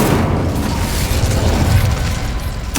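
In Hogwarts Legacy, a cast Incendio fire spell erupts with a loud, rumbling whoosh-like burst that sustains across the moment, ending in a sharp pop.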